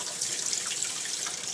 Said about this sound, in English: Because I'm gonna put the chicken in it as I rinse it.